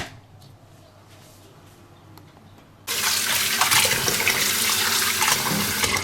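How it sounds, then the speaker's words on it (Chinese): Running water from a kitchen tap washing a bamboo pole, quiet handling sounds at first, then a sudden loud, steady rush of water splashing for the rest. "下面我要竹竿给它洗干净了。"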